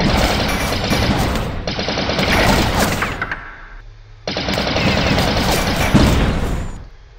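Rapid, loud video game gunfire from the shooter Droid Assault, dense automatic bursts with crashing impacts, one long barrage, a brief lull, then another sustained volley.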